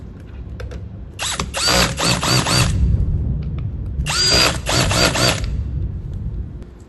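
A cordless power drill driving nuts down against lock washers on a yoke control panel install, two loud whirring bursts a couple of seconds apart, each ending as the nut seats, close to the microphone.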